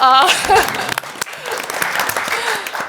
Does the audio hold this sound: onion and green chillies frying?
no